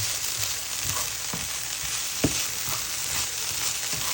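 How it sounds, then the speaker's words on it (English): Garlic and onions fry steadily in a pan, a continuous close sizzle with scattered soft scrapes and taps as a utensil stirs them through. "let's add in the garlic. Get that with the onions"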